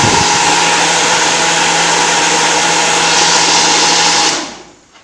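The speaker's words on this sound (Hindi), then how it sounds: "देख सकते हैं हमारा कूलर चालू हो गया है" A homemade rechargeable cooler's fan runs with a loud, steady, close whirring hum and a constant motor drone, then winds down and fades toward the end.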